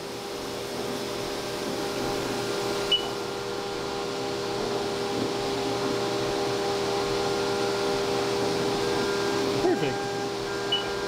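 A CNC mill takes big cuts on an aluminum blade fixture plate for a folding knife build, giving a steady mechanical whir and hum with faint tonal cutting whine and a couple of small clicks.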